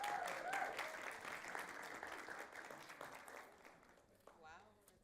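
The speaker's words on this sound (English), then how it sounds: "Come, let's give a round of applause." Audience applause in a talk or workshop setting, a quiet, brief burst of clapping that fades out over a few seconds beneath some murmuring voices.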